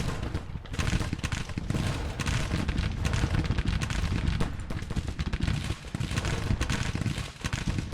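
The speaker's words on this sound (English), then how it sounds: "We're firing across the river. Guns are blazing." Civil War artillery and massed musket fire across a river in the Grand Tactician strategy game, a continuous rumbling barrage of overlapping booms and crackling shots.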